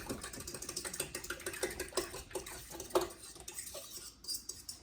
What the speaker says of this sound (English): take a whisk and whisk up that egg. Or a fork. Fork's good.